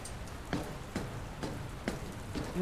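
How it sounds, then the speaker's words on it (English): Steady rain falling in the PC narrative game The Beginner's Guide, a soft continuous hiss with faint periodic thuds, like footsteps on stairs, recurring about every half second to second, no talking. "I don't think it's supposed to still be raining"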